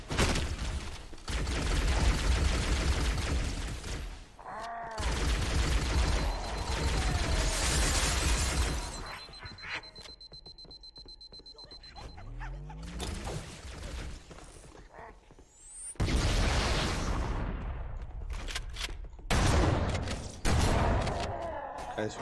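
Bursts of rapid gunfire from Halo: Combat Evolved come in loud volleys separated by brief pauses, with mechanical clicks and reload sounds between them.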